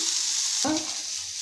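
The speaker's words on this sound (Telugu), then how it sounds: "ఇలా దగ్గరకు వచ్చే వరకు ఆకును వేయించుకోవాలండి" Mint leaves fry in a pan: a bright, steady hiss of sizzling, with a stir scraping through the leaves partway and the sizzle continuing after it.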